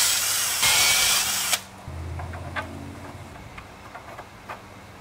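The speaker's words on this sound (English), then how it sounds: "We're now going to drill the clearance hole for the bolt using a 19/64 drill bit." A power drill with a 19/64 bit whirs loudly through wood for about a second and a half, then stops, leaving a quiet engine-like hum and faint clicks.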